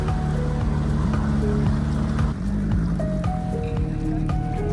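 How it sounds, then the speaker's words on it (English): Ocean waves crashing against the edge of a South Pacific atoll reef, a steady broadband wash of surf that roars continuously at close range, with a low rumbling undertone and no speech. "watching the waves bash up on the reef"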